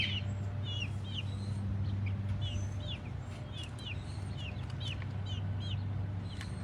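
Soft clucks and chirpy calls from chickens come in scattered bursts over a steady background hum, moderately near.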